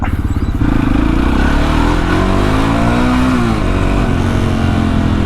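A Husqvarna SMS630 supermoto motorcycle engine, a lightweight bike built with aluminium components, revs loudly up close, pitch climbing and falling in steady throttle blips with no talk.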